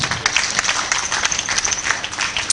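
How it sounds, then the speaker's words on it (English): Audience claps at a live book launch event, a short burst of dense, lively applause from a gathered crowd that stays steady and fairly close throughout. "A round of applause for Maisam and Mr. Fayaz."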